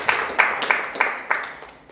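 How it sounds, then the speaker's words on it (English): A small audience at a franchising and business talk claps in a short burst of sharp, distinct claps that thin out and fade over two seconds, with no voices. "Ladies and gentlemen, please round of applause to Pertunia"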